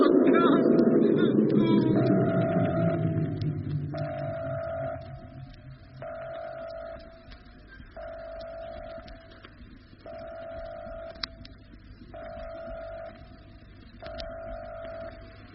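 Spaceship accelerating in a 1950s radio science-fiction serial, a swelling roar that fades over the first seconds into a steady hum with a regularly pulsing electronic tone repeating about once a second.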